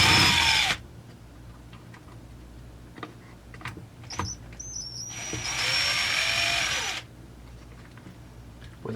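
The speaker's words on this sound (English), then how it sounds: "carburetor's coming off" A cordless driver buzzes in short bursts while the carburetor comes off a Husqvarna 346xp chainsaw, with quiet clicks and small metallic handling noises between the close, moderately loud whirs.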